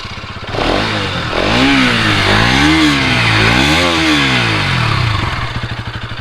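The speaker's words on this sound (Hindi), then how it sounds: "आपको सुना देता हूँ गाड़ी का" Exhaust of a 2022 Bajaj Pulsar NS200 motorcycle revving from idle, with repeated rising and falling throttle blips over a loud, close, rough engine note, then back to a clattering idle.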